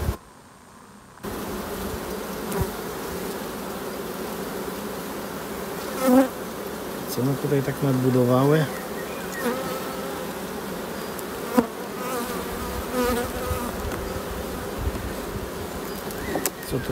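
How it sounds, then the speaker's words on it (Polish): Steady, dense buzzing of many honeybees close by at open hive frames, with a few louder passes as individual bees fly near; a voice speaks briefly. "Młoda pszczoła sobie tu śmiga."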